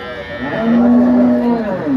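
A cow at a cattle market gives one loud, close, drawn-out moo lasting over a second, followed by a short second call just after.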